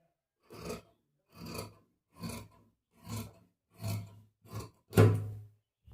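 Scissors cut blouse fabric by hand in seven rhythmic rasping strokes, evenly spaced with quiet gaps between, the final cut slightly louder.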